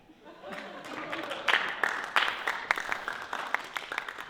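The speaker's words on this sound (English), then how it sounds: "let's give them the clap. A hand." An audience at a high school play claps and applauds, scattered sharp claps building into a fuller round, with some chuckling and voices mixed in.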